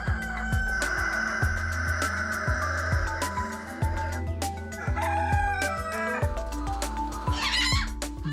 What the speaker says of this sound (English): that's a miniature variety of the long-tail fowl